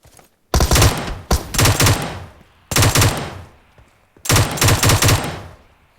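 Gunfire from a weapon set to burst mode in a video game: four rapid crackling volleys, each about half a second to a second long, loud and close with short silent gaps between them.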